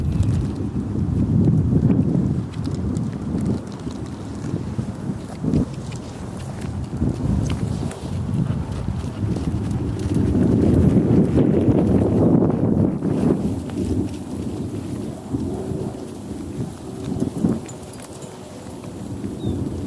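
Horse loping around an arena during a riding clinic, its hooves giving a steady rolling rhythm of muffled thuds over continuous outdoor wind noise, with no talking.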